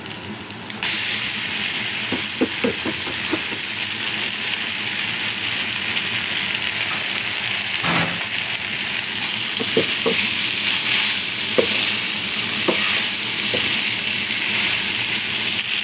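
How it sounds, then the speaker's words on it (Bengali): Pasta fried with tomato, chili and onion crackles in a pan with a constant sizzle, while a spoon stirs it with scattered clicks and scrapes over roughly sixteen seconds. "এখন এর ভিতরে আমি পাস্তাগুলো দিয়ে দেব।"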